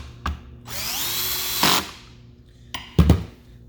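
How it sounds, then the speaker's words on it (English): A power drill set to low torque drives screws into a plastic pool-cleaner powerhead, giving a whirring burst of about a second, then short clicks and a final brief spin, close and fairly quiet. "Anytime that you're using power tools with plastic, make sure you have your torque setting really low."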